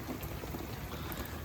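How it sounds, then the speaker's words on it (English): A heavy rain shower outdoors at a fishing lake, a faint, dense steady hiss of drops falling without pause. "This heavy shower that's just started now."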